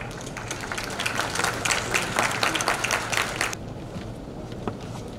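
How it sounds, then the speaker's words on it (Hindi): An audience claps in welcome as a government minister is invited onto the stage at a business association event in Bihar, a dense burst of applause that swells and then thins out toward the end. "जोरदार तालियों से उनका स्वागत करें।"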